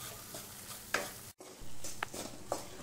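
Butter and flour roux cooking in a kadhai, a soft steady sizzle with a few scraping strokes from continuous stirring and a brief gap in the middle.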